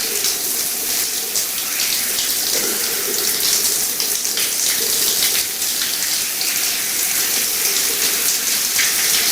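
Water from a shower runs hot and cold in a steady, loud, hissing spray that never pauses, with no talking.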